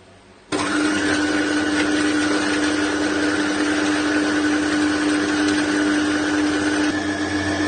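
An electric mixer beats eggs for soft milk pastry dough, a loud, steady, close whirring that starts abruptly after a short quiet moment and runs unbroken to the end.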